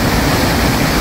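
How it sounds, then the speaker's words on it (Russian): A mountain waterfall swollen with rainwater thunders as a dense, continuous roar, loud and close with no pauses. "Ох, какой водопад."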